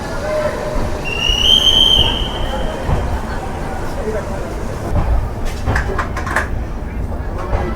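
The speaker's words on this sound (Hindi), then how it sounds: "हमारी ट्रेन चंडीगढ़ से रवाना हो चुकी है।" The Pashchim Express pulling out of Chandigarh on its run to New Delhi, a loud continuous rumble of the moving train with a brief high whistle-like tone early on and clattering toward the end, heard from on board.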